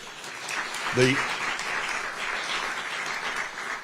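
An audience applauds at a New Jersey governor's public announcement event, a steady wash of clapping from a crowd in a hall, with a brief voice breaking through near the start.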